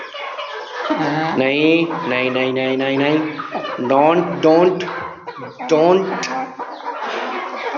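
Golden Misri hens cluck repeatedly up close, with their calls mixing with a person's voice speaking over them.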